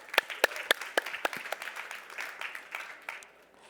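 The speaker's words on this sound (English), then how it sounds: "So give him a big round of applause, please." A debate audience gives a short round of applause: a few sharp, close claps at the start that thin into scattered, softer clapping and fade out within a few seconds.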